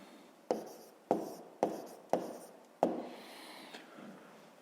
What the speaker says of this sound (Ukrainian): Є, записуємо відповідь